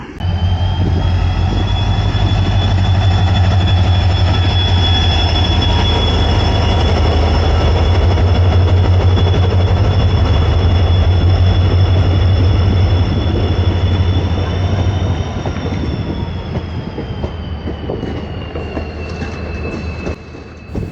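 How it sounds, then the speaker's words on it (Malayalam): Inspection train rake pulling into Edamon railway station, a loud, continuous rumble of wheels on track with a high steady squeal running throughout, easing slightly toward the end. "ഇൻസ്പെക്ഷന് വേണ്ടിയിട്ടുള്ള റേക്ക്. എടമൺ സ്റ്റേഷനിൽ എത്തിയിരിക്കുകയാണ്."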